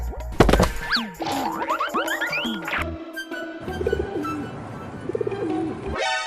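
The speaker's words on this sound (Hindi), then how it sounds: "ये तो प्याला सा कबूतर का बच्चा है।" A pigeon chick coos with soft warbling calls and rising and falling chirpy notes, close by, continuing in several short phrases over a few seconds.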